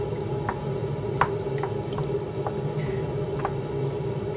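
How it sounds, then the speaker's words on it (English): Wooden spoon chopping tomatoes in a skillet, several faint scattered taps and knocks over a steady sizzling simmer. "I'm going to chop it up a little bit with my wooden spoon here"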